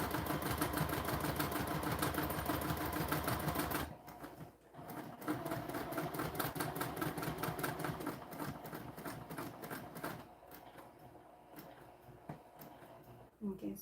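A sewing machine stitching with bobbin thread, a steady rapid mechanical whirr and rattle that runs loud, breaks off, then starts again in shorter runs.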